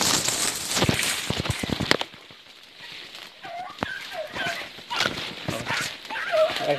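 A dog moves through the forest on a mountain trail, giving a few short whimpers and yips amid rustling and bursts of movement noise, fairly close and uneven.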